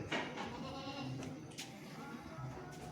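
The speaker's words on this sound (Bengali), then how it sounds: "এই ছাগলগুলো চুজ করেছেন" Several goats bleat in overlapping calls, fairly close, with a busy farmyard background and no talking.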